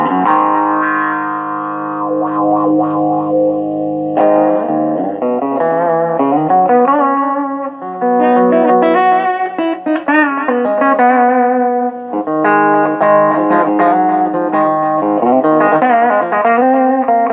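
An electric guitar played through distortion and effects pedals into a small ZT amp, with sustained chords and melodic runs ringing loud and continuous and no talking.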